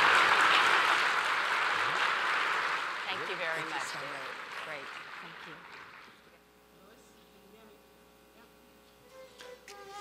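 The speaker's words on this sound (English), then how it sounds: "let's give Mayor Lyles and Mayor Benjamin a round of applause" Business summit audience applause fills the first six seconds, dense and loud, then fades out into quiet room tone with faint voices.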